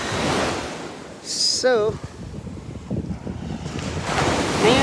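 Sea waves wash onto a shore in a steady broadband roar mixed with wind, while people talk over it and a brief whistling sound cuts in partway through.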